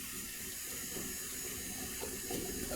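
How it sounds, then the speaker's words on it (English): Coffee pours from a coffee pot into a container in a kitchen, a steady, continuous splashing trickle with slight swells, close and fairly quiet. "Coffee pot is like super hard to pour."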